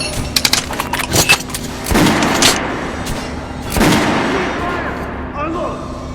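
Gunfire in the video game Metro Last Light Redux at a shooting range against an armored target: a rapid burst of sharp shots, then two heavy booming blasts with ringing tails, and faint clinks afterward.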